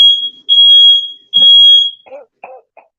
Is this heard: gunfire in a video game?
no